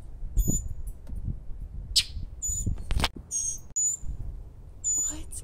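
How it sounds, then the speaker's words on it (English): Sharp, shrill squawks from a bird on the ground burst out repeatedly over a steady low rumble of wind or movement, close by and loud. "One just flew right on the ground, right in front of me, and squawked at me."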